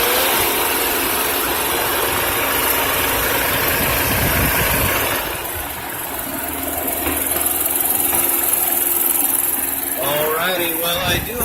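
A 2012 BMW 328i turbocharged engine idles steadily throughout, a continuous mid-range hum with a slight shift in tone partway through and a brief higher sound near the end.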